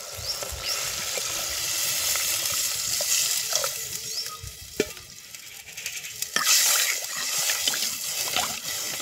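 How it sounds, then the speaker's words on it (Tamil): Water poured into a cooking pot of hot turmeric-spiced soup base, cooking outdoors in a backyard, a continuous hissing, sizzling splash that rises in bursts partway through, close and fairly loud with no talking. "இப்போ தண்ணி ஊற்றிக்கலாம்."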